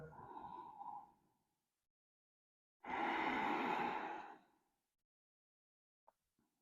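Slow deep breaths during a stretching exercise: a soft exhale, a pause of silence, then a louder, fuller breath lasting over a second, followed by faint small clicks.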